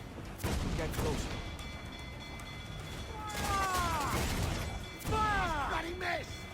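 Booming ship cannon broadside fire in the pirate video game Assassin's Creed 4: Black Flag, heavy blasts rolling in several waves amid crashing impacts, with shouting voices and whistling, swooping projectile sounds over the din.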